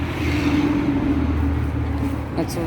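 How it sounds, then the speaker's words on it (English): Road traffic passes by a backyard building lot on a hot day, a loud low engine rumble with a steady drone as a vehicle goes by close at hand. "Probably can't hear me over the traffic though."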